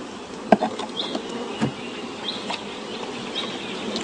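Honeybees buzzing inside a sparse hive colony stricken by colony collapse disorder, a steady low insect hum with a few brief louder buzzes as bees pass close.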